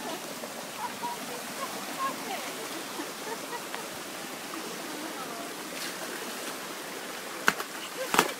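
A dog splashes about in a small amount of water, a continuous close, watery wash throughout with a couple of sharp knocks near the end.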